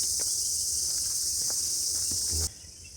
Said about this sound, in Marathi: आणि रातकड्यांचा आवाज ऐका